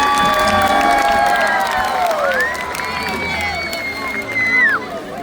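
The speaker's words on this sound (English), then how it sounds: "Everybody else give Duke a round of applause" SeaWorld San Diego crowd at the orca show, loud cheering, shouting and clapping blended with excited voices and whistles, sustained throughout.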